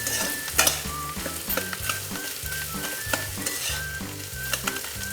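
Potato curry frying in a pan over medium-low gas heat, with a continuous sizzle and rhythmic spoon scrapes and stirring strokes, close and steady, alone without talk.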